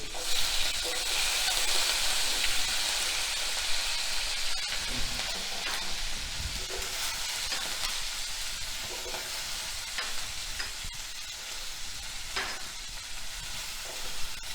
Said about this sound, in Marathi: कढीपत्ता घालून आपण सगळ्या भाज्या परतून घेणार आहोत